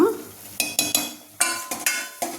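Masala sizzles in a pot of mutton curry cooked with onion and tomato as it is stirred in, with several scraping stirs in quick bursts and a steady frying hiss between them.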